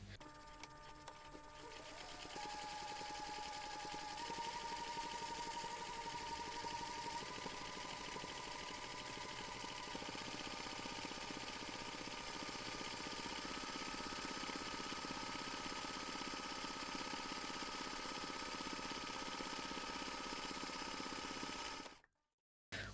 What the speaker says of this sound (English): we're going to stitch about 2 millimeters from the edge of the top handle